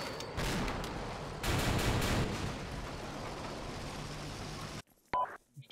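Rapid machine gun fire in a patrol combat video game, loud dense bursts rattling for several seconds then cutting off abruptly, followed by a few sparse clicks and thumps.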